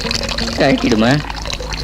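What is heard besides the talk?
water running from a tap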